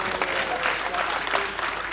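An audience at a campus Holi event claps in thick, steady applause for about two seconds, a dense, even patter with no break.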